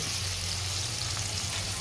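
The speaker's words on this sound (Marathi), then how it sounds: "जिरे मोहरी तडतडतात कडीपत्ता टाकलेलं आहे" Steady, close sizzling and crackling of cumin and mustard seeds popping in hot oil with curry leaves in a wok, a dense continuous hiss with no talking.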